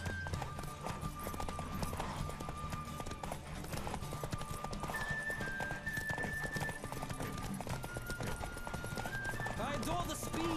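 Horse galloping in The Witcher 3 video game, a steady rapid clip-clop of hooves under continuous game music and ambient effects, with a whinny; no one talks.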